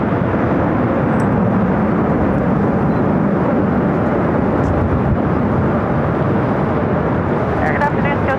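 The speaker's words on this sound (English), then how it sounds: "Cargo 777 freighter taking off 25 right." A cargo Boeing 777 freighter takes off from runway 25 right at LAX, its engines a loud, steady broadband roar that holds throughout.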